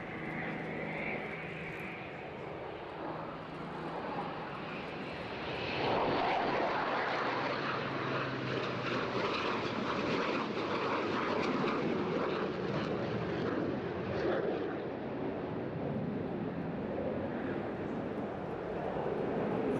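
A loud, broadband jet roar comes from a formation of fighter aircraft flying past at the Eastbourne Airshow 2022, where an RAF Typhoon display is running. The rumble holds steady and swells slightly as the formation passes at a distance.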